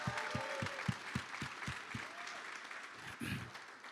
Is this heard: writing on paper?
no